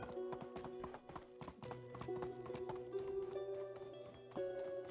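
A horse in Medieval Dynasty galloping and jumping a fence: rapid, rhythmic hoofbeats close up, with a brief whinny, over a droning musical background and no talk.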